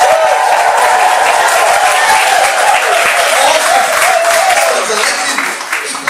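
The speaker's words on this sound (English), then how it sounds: "Final one, clapping, cheering, American style whoops as well." An audience breaks into loud, dense clapping and cheering with scattered American-style whoops, a steady roar of applause that holds strong before easing slightly at the end.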